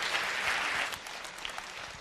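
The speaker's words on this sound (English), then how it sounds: "Please give them a warm round of applause." A brief round of applause from a conference audience after a console-hacking talk, strong at first and then tapering to lighter scattered clapping.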